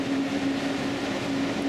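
An Intercity train pulls into Salzburg station, a steady low rumble with a sustained tonal hum from the locomotive, close and continuous.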